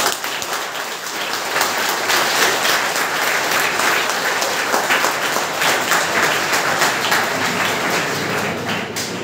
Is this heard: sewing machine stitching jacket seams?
no